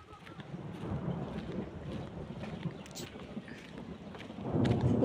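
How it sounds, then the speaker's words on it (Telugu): Thunder rolls over the Nagaland hills as light rain falls, a low continuous rumble with wind buffeting that swells louder at the end. "ఉరుములు అయితే వస్తున్నాయి, వర్షం అయితే చినుకులు పడుతున్నాయి."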